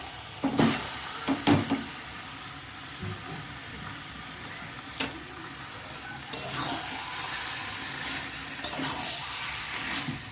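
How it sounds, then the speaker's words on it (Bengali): Washed meat sizzles and fries in a pan as it is stirred, with sharp scraping clacks early on and a louder burst of frying toward the end, steady hiss throughout. "ধুয়ে রাখা মাংসগুলোকেও দিয়ে দেবো এবারে, পুরো পরিষ্কার করে ধুয়ে রেখেছিলাম।"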